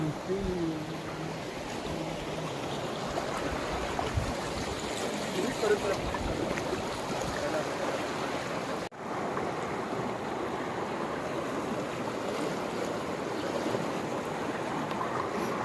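Steady rushing of a river in Raigad swollen by heavy rain, flowing close by, constant and broad without pauses.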